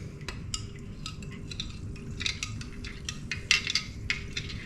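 A spoon clinks and scrapes inside a glass while a mixed drink is stirred. The light, irregular taps are close and fairly quiet over a low background hum.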